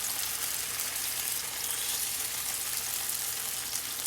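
Potatoes frying at medium heat in a pot for tahchine, a steady close sizzle with a dense hiss that holds evenly throughout with no talking.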